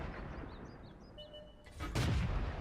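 Tank cannon fire in the World of Tanks video game: a sharp loud blast with a rumbling boom and crackle hitting an enemy tank, following quieter game ambience with faint chirping tones.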